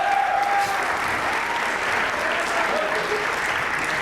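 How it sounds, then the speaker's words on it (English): An audience applauds a bass player after his solo at a school morning meeting, a steady, full round of clapping from a crowd in a hall that holds level for several seconds. "Give Sean another round of applause."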